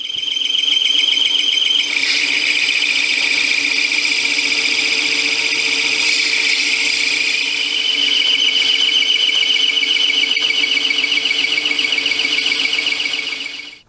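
A metal lathe cuts with a trepanning tool while making neon clock parts, giving a steady, loud, high-pitched metallic whine and scrape that holds throughout with a slight shift in tone partway, with no talking.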